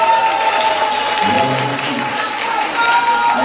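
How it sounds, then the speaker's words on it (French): Dense, loud applause from the audience at a meeting of the Ivorian diaspora in Paris, a continuous wash of many hands clapping at once with crowd noise mixed in. "j'aimerais que vous l'applaudissiez"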